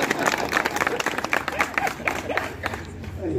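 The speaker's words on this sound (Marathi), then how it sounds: "तुम्ही टाळ्या वाजव आपला मला." Applause from a crowd at a political rally in Amravati, a short burst of dense, close clapping with a speaker's voice heard over it.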